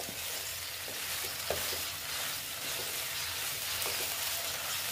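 Bitter gourd stir-frying in a hot pan, with a steady sizzle and crackle throughout and a few soft clicks of stirring, no talk.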